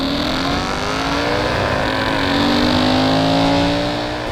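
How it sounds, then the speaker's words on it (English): A Mercedes C63 AMG (W204) with a 6.2-liter quad-cam V8 launches hard, the engine roaring loud and close as revs climb steadily through first gear while the tires fight for grip. "The Mercedes explodes off the line, fighting wheel spin the whole way through first gear."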